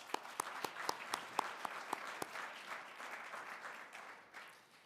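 An audience at the 2022 SAMY Awards breaks into moderate applause with a few sharp, distinct claps standing out early, then softens into a fading patter, somewhat distant in a large room.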